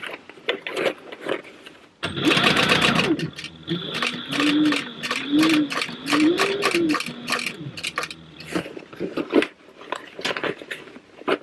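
A sewing machine stitches fabric for a food box in one long run of fast rhythmic whirring, with a few pitch swells as the speed shifts, framed by scattered clicks and handling noise.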